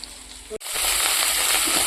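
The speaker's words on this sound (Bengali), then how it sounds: "তো ওই যে আলু ফুলকপিটা বসিয়ে দিয়েছি ভাজার জন্য" Potato and cauliflower pieces frying in a pan: after a short quiet gap, a loud, steady hiss of hot oil comes in and holds without a break, with no voices.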